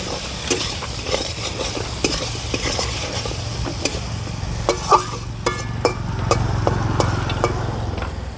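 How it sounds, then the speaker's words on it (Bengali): Potatoes fry in a pan for a village-style rohu fish and flat bean curry, a steady sizzle with repeated scraping stir strokes and clinks throughout, near and fairly loud, no talking. "আলুগুলো ভালো করে আমি ভেজে নেব"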